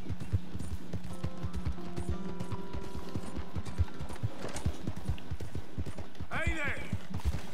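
Horse hooves in the video game Red Dead Redemption 2, a steady rhythmic clip-clop of a trotting horse under in-game music and voices, with a brief neigh near the end.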